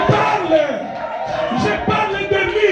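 A church congregation cheering and acclaiming, a crowd of voices shouting and whooping together in rising waves, with a lead voice carrying above the mass of cheers.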